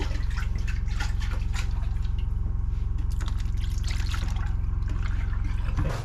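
A hand pump in an off-grid tiny house kitchen draws water in a steady, rapid pulsing rhythm, with liquid trickling and pouring under a low mechanical hum, close and fairly loud.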